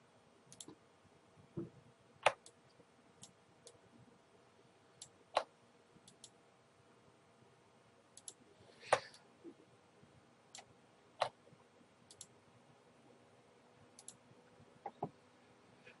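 Sharp, scattered mouse clicks, some close together and others spaced seconds apart, sound against a quiet room while photo editing goes on in Lightroom.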